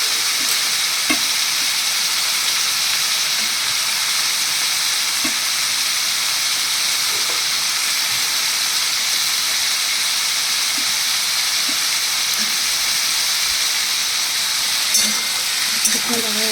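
Potatoes stir-fried with poppy seeds in a pan give a steady, dense sizzle throughout, with scattered soft clinks of the spatula close by and no talking.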